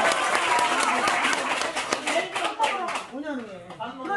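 Workshop audience clapping in a busy burst for about three seconds, then fading as voices take over near the end.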